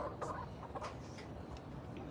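A hen clucks near its nest full of eggs, soft scattered clucks at close range with faint background noise and no talk.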